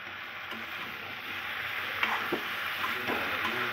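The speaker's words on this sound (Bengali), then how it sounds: "মশলা কষানোর পরে আলু আর ফুলকপি একসঙ্গে দিয়ে দিলাম, দিয়ে আর একটু কষিয়ে নেব।" Potatoes and cauliflower fry in a spice masala with a dense, even sizzle and a few faint stirring scrapes, close and continuous.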